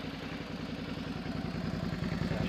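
A 2006 Suzuki V-Strom 650 motorcycle with a slip-on exhaust pipe idles steadily nearby, a low, even rhythmic thrum with a fast regular pulse and no voices over it.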